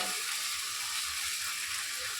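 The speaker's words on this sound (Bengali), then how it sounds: "এই মশলাটা যতক্ষণ তেল না ছাড়বে ততক্ষণ পর্যন্ত আমি ভেজে নেব ভালো করে" Spice paste fries in hot oil in a pan on an indoor stove for a silver carp curry, giving a steady, close, dense sizzle that hisses evenly throughout without pause.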